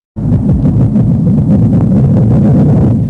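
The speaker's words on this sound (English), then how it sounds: "just the bubble pulse." The bubble pulse of an underwater explosion starts abruptly as a loud, deep rumble that throbs in rapid repeated pulses for about three seconds before cutting off.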